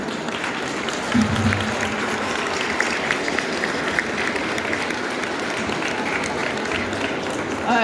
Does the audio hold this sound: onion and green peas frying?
no